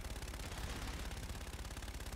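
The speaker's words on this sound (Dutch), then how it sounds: "Ik hoor mensen al gewoon op die Warden schieten." Rapid bursts of gunfire in Call of Duty: Infinite Warfare, rhythmic automatic shots repeating steadily at a quiet, distant level.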